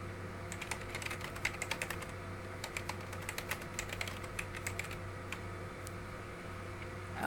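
Rapid, steady typing on a computer keyboard, a continuous run of close, crisp key clicks over a faint background hum.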